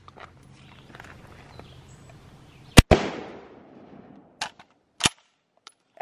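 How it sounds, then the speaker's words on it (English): A single sharp, loud Mosin Nagant rifle shot cracks outdoors with a rolling echo trailing off, preceded by quiet rustling and followed by a few metallic clacks of the bolt being worked. "Now I'll shoot it this time."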